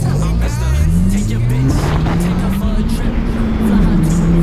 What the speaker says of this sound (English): Can't believe he let a Grom beat his little SI.